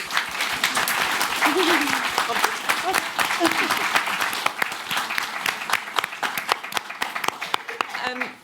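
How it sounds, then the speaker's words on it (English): An audience at a TV production masterclass applauds the panel, sustained clapping at moderate level that thins toward the end, with some voices mixed in. "So let's give our panel a round of applause, please."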